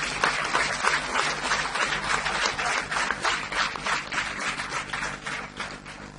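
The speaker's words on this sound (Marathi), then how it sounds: "खऱ्या टाळ्या जर कोणासाठी वाजल्या पाहिजेत तर त्या योगेशजींसाठी वाजल्या पाहिजेत" A hall audience at a cricket association website inauguration gives Yogeshji a full, continuous round of applause, loud and dense with sharp individual claps, gradually easing slightly toward the end.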